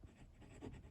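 A Stilform steel-nib fountain pen, fine or medium, with Pilot Blue Black ink scratches across paper in a short continuous stroke, a soft close-up scraping that swells slightly in the middle.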